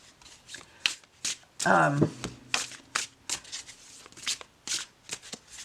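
Crisp riffle shuffles of tarot cards repeat in quick bursts, close up, with a spoken voice briefly in the middle.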